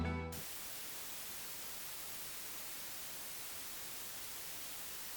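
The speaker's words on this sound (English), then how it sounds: "Here you can listen to an amplified white noise." Amplified white noise hisses as a steady, even static wash across the whole range after a brief opening sound, continuous and moderately loud.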